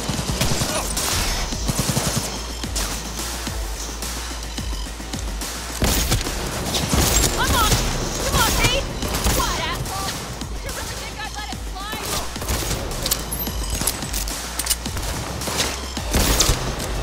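Intense gunfire in the video game Cyberpunk 2077, with rapid bursts and dense volleys of shots running continuously over a booming soundtrack and effects, loud and close, with occasional speech woven in.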